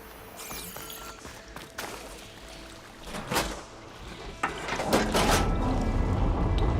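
In the video game Horizon Forbidden West, water starts flowing after a valve is switched: a steady, moderately loud wash of rushing water that swells and thickens toward the end, with a few brief mechanical knocks.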